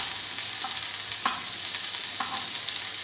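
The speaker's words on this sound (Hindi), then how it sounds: "बहुत ज़्यादा तेज़ फ्लेम पर हमने इसको फ्राई नहीं करना है" Four kebab patties for a homemade burger fry in a little oil over moderate flame, giving a steady bright sizzle with a few soft clinks and stirring touches, no voices.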